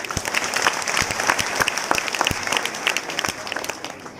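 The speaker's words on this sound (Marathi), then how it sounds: "जोरदार टाळ्या स्वतःसाठी" Loud, sustained applause from a crowd at an honour ceremony for a retired soldier, dense clapping throughout with sharp individual claps standing out, no voices.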